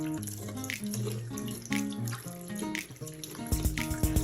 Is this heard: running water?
yes